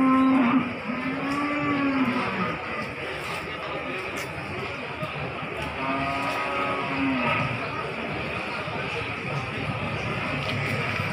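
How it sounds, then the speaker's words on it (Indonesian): Cattle low repeatedly at a busy livestock market in Winong, Pati, with several drawn-out moos amid constant crowd chatter and background bustle. "Kita akan melihat-lihat sapi-sapi terbaru yang ada di sini"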